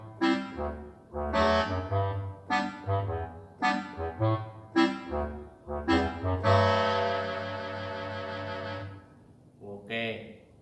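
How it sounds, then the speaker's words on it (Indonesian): Clarinet playing a short, bouncy comic phrase of staccato notes, then a long sustained note, up close and alone. "itu namanya klarinet"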